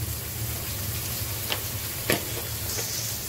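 Crab masala of homemade spice mix and salt sizzles and fries in hot oil, a steady crackling hiss close up with a couple of brief louder stirring scrapes partway through.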